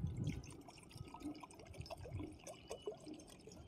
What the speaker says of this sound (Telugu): చిన్న బౌల్ తీసుకొని అందులో మనం నీళ్ళు పోసుకోవాలా